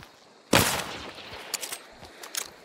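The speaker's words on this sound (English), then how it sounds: "There was someone else shooting at me." Video game gunfire from another shooter during a solo bounty hunt: one loud sharp burst, then several quieter, more distant cracks in a scattered rhythm.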